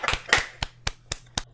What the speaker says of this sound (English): So let's everybody give him a nice round of applause for Chris Levantia.